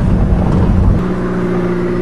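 An Aries turbo wagon engine roars loud and close under hard acceleration, a heavy rumbling drone that shifts to a steadier, higher-pitched note halfway through.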